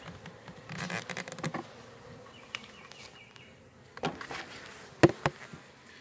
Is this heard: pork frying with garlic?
no